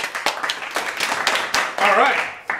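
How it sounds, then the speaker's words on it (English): A small group claps a brief round of applause, distinct close claps in an uneven rhythm, with a voice speaking over the end. "we're going to give you a round of applause"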